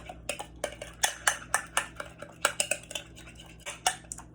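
A spoon stirring a mixture in a bowl makes a fast, regular run of light clinks and taps against the sides, close and fairly quiet, with no voices.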